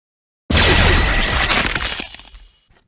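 A museum floor shatters in a sudden loud crash of breaking debris that bursts out of silence, rumbles for about a second and a half, then trails off into scattered falling fragments.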